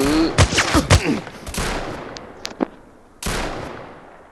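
Gunfire from a realistic gun video game: a rapid cluster of sharp shots early on, then scattered single shots with tails fading into quiet, followed by one more burst near the end.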